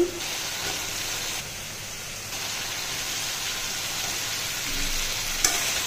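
Taro stolons and pangas fish curry with spices being stir-fried in a pan, giving a steady sizzle with scraping stir sounds throughout and a brief sharp clink near the end, no voices.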